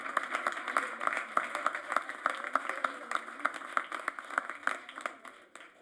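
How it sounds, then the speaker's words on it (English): A small audience claps for children at a mock city council meeting on Civic Day, a quiet, steady patter of scattered hand claps with no voices. "Let's give the kids a round of applause."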